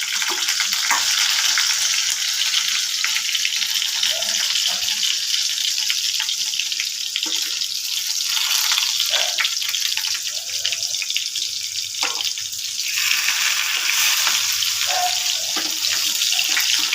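Prawn cutlets fry in hot oil, a dense continuous sizzle that stays close and loud for the whole stretch, with no talking.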